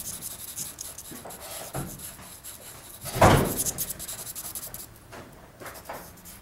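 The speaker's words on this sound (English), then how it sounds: "A little bit more shading here." Charcoal shading on a portrait drawing, a soft continuous scratching and rubbing on paper in short back-and-forth strokes, close and quiet, with one louder, denser stroke midway.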